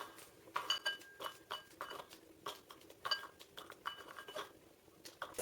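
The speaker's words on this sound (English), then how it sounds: "I bought this Oreo from Whole Foods. So I'm gonna cut it up" A knife chops Oreo cookies on a board while vegan ice cream is being made, giving quiet, irregular taps and small crunchy clicks that repeat close by with no voices.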